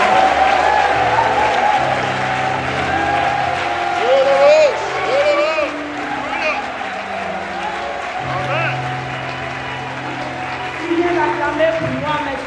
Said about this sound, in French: Avant de nous asseoir, nous vous demander d'acclamer le Seigneur.